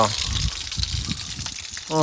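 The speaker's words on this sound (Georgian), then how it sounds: "ეგერ წყალიც მოდის, კი." Spring water piped out of a spout gushes steadily outdoors, a loud continuous splashing rush that runs the whole time, with a brief voice at the end.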